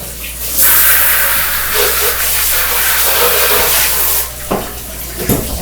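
Tap water runs loudly into a sink as a bowl is rinsed, a steady rushing hiss that cuts off near the end, followed by a few clunks of the bowl.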